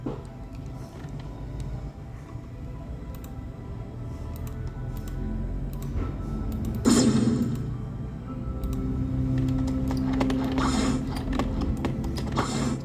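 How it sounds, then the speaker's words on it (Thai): Rapid clicking of keys on a computer keyboard, close and steady throughout, with irregular bursts of typing over a low background hum. "เสียงคีย์บอร์ดอาจจะดังหน่อยครับ"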